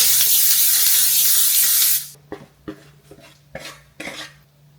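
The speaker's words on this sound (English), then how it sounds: "Get some nonstick spray." A loud hiss of cooking spray for about two seconds, followed by a few soft clinks and taps of a pan.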